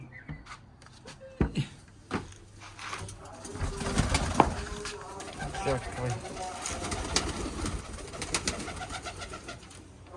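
Pigeons coo softly nearby in a rooftop loft, low murmuring calls repeating under sporadic speech, with a few sharp knocks and faint rustles scattered through.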